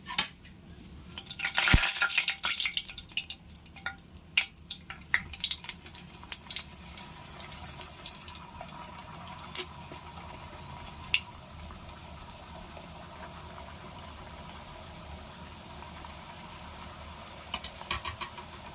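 Wheat-flour farsi puri fry in hot oil, a constant close crackle and sizzle with sharper pops and clatter near the start that settle into a steady hiss.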